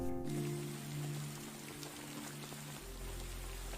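Steady rain patters on surfaces throughout, with a low tonal hum underneath that drops away near the end while the rain continues.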